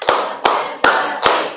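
A school class claps hands together during an ice-breaking game, four sharp, evenly spaced claps in a quick rhythm, close and loud, with no talking between them.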